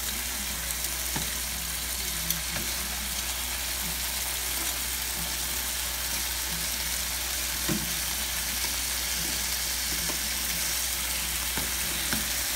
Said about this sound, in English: Okay, our chicken is cooking